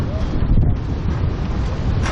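Strong gusts of wind buffet a microphone outdoors at sunset on a very windy day, a steady, loud, rumbling roar that fills the whole clip without letting up.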